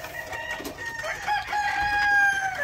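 A rooster crows nearby in one long, loud, drawn-out call that rises and holds, heard alone over faint farmyard background.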